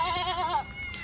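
Young goat bleating on a livestock farm, a single wavering bleat close by, followed by faint background noise.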